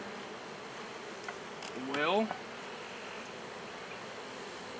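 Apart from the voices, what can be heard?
honey bees buzzing in a hive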